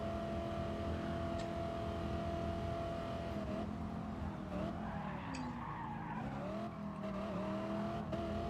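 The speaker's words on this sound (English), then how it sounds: "Why did I downshift it in first gear? Almost blew up the V8." A V8 race car in a racing video game over-revs on a downshift into first gear, its loud, steady engine drone rising and wavering in pitch with tire squeal and skidding noise throughout.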